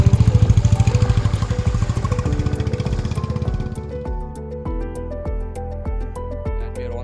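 A motorcycle rides a snowy mountain road between a tall snow wall and valleys, its engine throbbing steadily and loud at first, then easing into a lower rhythmic putter, close and continuous.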